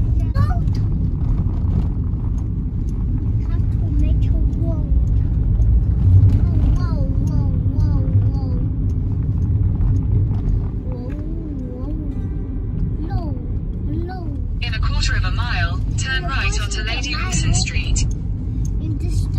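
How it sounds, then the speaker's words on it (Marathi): Steady traffic rumble on a city street in Edinburgh, with engines and passing cars forming a continuous low drone; people talk over it throughout and a brighter, busier noise burst comes in near the end. "आर्किटेक्चर कमी, ट्रॅफिकच जास्त आहे."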